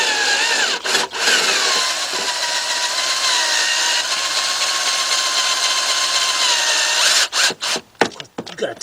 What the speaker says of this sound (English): I hate this drill.